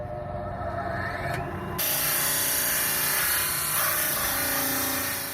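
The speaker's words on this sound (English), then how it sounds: "I can smooth this off with my sander and make it more acute and steep." A power sander grinds steadily against a wooden triangle, smoothing it to a steeper angle, with a continuous close rasping whir that jumps louder partway through and holds to the end.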